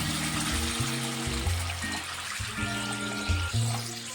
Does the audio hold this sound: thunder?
no